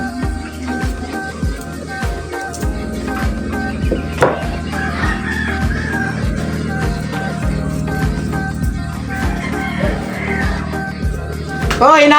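Hens cluck and chatter close by, with a rooster crowing among them, all over a steady background hum and a rhythmic tapping that runs throughout.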